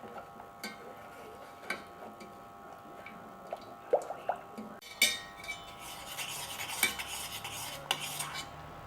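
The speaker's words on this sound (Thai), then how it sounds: "ตอนนี้จะคนผงวุ้นให้ละลายก่อน" Agar powder is stirred into liquid for a coconut milk jelly dessert, with light scraping and clinking of a utensil against a pot, irregular taps growing busier in the second half, fairly quiet and close.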